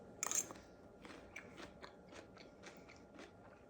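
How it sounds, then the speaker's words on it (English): Crunchy sautéed fresh green beans bitten into, one sharp crisp bite followed by a series of softer rhythmic chewing crunches, close to the mouth and quiet, with no talking. "Let's get a quick bite."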